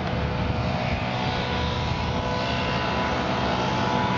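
A leaf blower drones steadily in the background beside a 1956 Chevy pickup, a continuous broadband whine holding at even loudness throughout with no speech.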